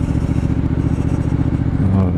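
A 2019 Triumph Street Scrambler 900 engine idling along at low revs, around 1700–1800 rpm, gives a steady, deep, tractor-like thumping pulse that stays close and loud throughout, with a slight rise near the end.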